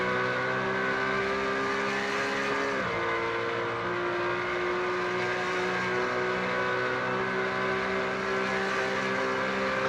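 Porsche race cars in a racing video game at Imola, several engines droning steadily together in close pack racing, with one pitch dropping sharply partway through as a car shifts or lifts.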